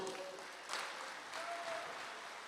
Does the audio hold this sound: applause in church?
yes